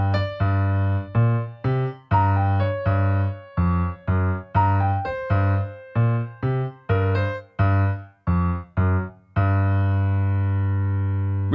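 Two-handed piano rendition of a theme, the left hand joining beneath the right in a steady rhythm of clear, close detached notes, ending on a sustained chord, with no talking.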